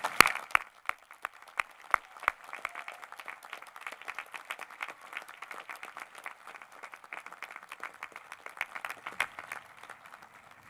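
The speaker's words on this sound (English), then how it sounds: "Join me in applauding the graduates once again." Scattered, fairly quiet clapping from an audience applauding graduates at a 2015 Penn Engineering master's ceremony, irregular individual claps continuing steadily throughout.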